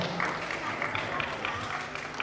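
Audience applause at an episode of an event introducing influencers and couples, a steady dense wash of many hands clapping with crowd noise, with no distinct talk.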